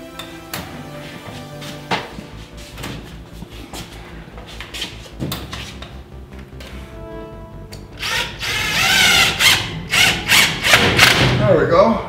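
A power drill tightens metal dust-collection duct work, running in short bursts with thumps between, then a louder sustained whir near the end, with some talk in the background.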